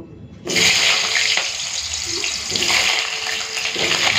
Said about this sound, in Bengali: তেলটা গরম হয়ে গেছে, প্রথমে আলুগুলো ভেজে নেব।